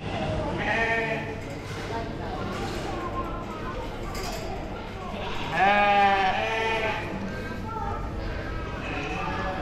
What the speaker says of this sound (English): We've got three pins of lambs, and they are Shevet lambs out of blackface ewes.